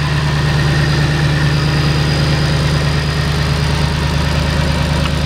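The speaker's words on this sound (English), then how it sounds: "So let's go ahead and let you hear the car running." A 5.8-liter, 662-horsepower V8 in a 2013 GT500 idles steadily with a deep, even rumble and constant low vibration, close by and with no talking.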